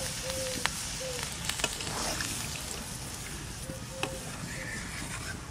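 Mutton curry frying in a pan keeps up a dense, continuous sizzle after water is poured in, with scattered clicks and taps of a utensil against the pan throughout.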